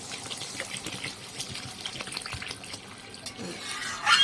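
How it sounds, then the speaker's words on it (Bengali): Water is poured into a pan of spiced poppy-seed fish curry with potato and pointed gourd, giving a steady splashing pour that builds louder near the end, with no talk. "এবার জল দিয়ে দেবো"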